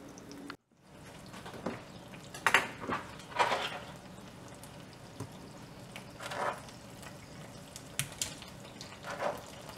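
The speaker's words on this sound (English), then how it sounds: "that's when I start dropping in my tofu" Pieces of tofu go into a pan of bubbling oil at home, giving several separate bursts of sizzling and clattering at uneven intervals over a quiet kitchen background.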